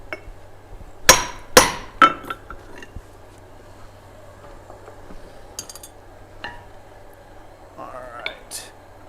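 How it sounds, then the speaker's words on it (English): A hammer strikes hot steel on an anvil while forging an axe, several loud ringing metallic blows early then lighter taps and clinks, with people talking in the background. "let's go to the anvil, Jess"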